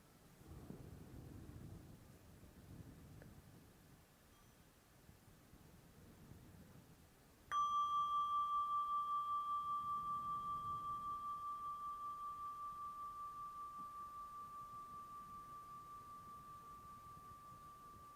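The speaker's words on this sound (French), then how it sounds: "un son de cloche." A meditation bell is struck once midway through a quiet room, ringing a clear sustained tone that decays slowly over about ten seconds after a stretch of faint breathing and room noise.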